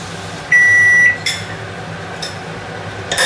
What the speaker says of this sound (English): my soybeans are ready, so I'm going to get them out of the microwave